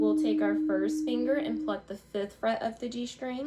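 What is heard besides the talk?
No everyday noise stands out behind the speech.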